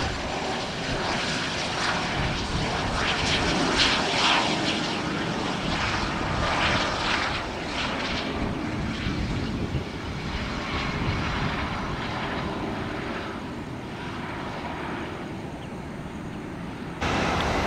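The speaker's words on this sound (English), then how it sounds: "Got a little exec jet here on one right." A small executive jet at Tampa airport gives off a broad continuous engine roar heard from a distance, swelling slightly then easing over the span, with no talk.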